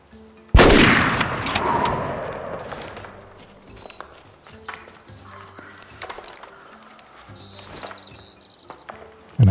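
A single loud rifle shot fired at game in the hunting video game Way of the Hunter, cracking sharply and then rolling away in a long fading echo, followed by quieter ambient rustling and clicks.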